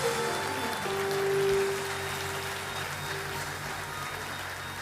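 A church congregation applauds at a sermon, a soft, steady wash of distant clapping sitting under a constant electrical hum, swelling slightly near the start and then holding even.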